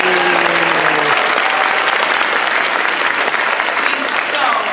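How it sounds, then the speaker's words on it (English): Audience at a voice actors' panel at San Diego Comic-Con applauding loudly, a dense, continuous burst of clapping with cheers and a voice briefly heard at the start. "please clap for him."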